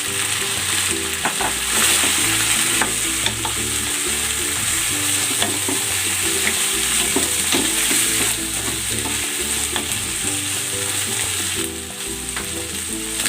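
Chicken pieces and sliced onions sizzle and fry steadily in a hot pan for adobo, with occasional stirring scrapes and crackles over a continuous loud hiss, no voices.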